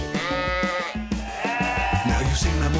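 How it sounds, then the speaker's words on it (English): Sheep bleat in a sustained, loud, wavering cry with a second overlapping bleat, filling the clip on a children's farm-animal song setting. "The sheep."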